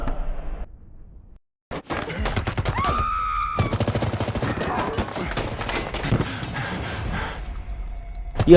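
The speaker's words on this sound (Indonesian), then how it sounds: "Scott langsung diperondong dengan assault rifle atau senapan serbu milik dari beberapa orang yang tak dikenal" Assault rifle gunfire erupts in a film scene as rapid, loud cracking bursts with shattering and debris, running for several seconds after a brief quiet lead-in, with no talk.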